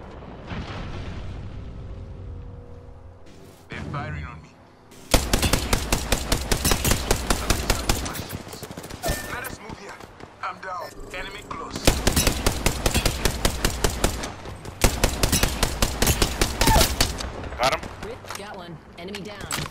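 Gunfire in the video game Apex Legends: loud, rapid automatic bursts in several long strings with brief gaps, mixed with voices talking between shots.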